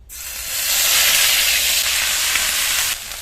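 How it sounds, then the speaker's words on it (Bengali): Grated onion drops into hot oil left over from frying fish and flares into a loud, close hiss and sizzle. The sizzle holds steady for a few seconds and then quickly fades down, with no talk. "পেঁয়াজটা কিছুক্ষণ ভেজে নেব"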